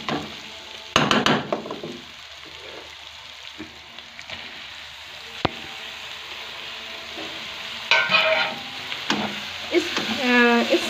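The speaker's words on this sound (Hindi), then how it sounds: "अभी मैं इसमें ऐड करने लगी हूँ टमाटर" Tomatoes go into softened onions frying in a pan for a mixed cauliflower sabzi, giving a steady close sizzle with brief louder bursts and stirring clatter, under light background noise.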